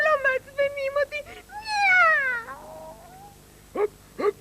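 A cartoon cat meows in a long, drawn-out, wavering call, close and loud, with short vocal bursts before and after that sound like a voice imitating the cat.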